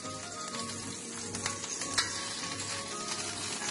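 Shrimp fry in hot oil in a pan for black rice with prawns and clams, giving a steady, close sizzle with faint stirring and scraping on top.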